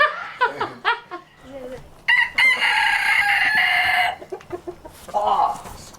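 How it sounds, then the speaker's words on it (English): Chickens on a farm cluck in short close bursts, then a rooster lets out a long loud crow, followed by more clucking; a person speaks briefly among them. "Come here, chickens."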